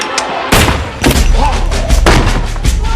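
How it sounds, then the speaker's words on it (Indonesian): Gunshots in a Denzel Washington film land as several loud, sharp booming cracks spaced through a short tense scene, with low rumbling between them. "tiba-tiba Sanchez muncul dan langsung menembak John tepat di dadanya"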